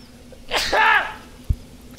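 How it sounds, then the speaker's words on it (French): A single sharp human sneeze, close and loud, with a quick inhaled build-up and a burst, followed moments later by a brief low thump. "Je vais éternuer bientôt."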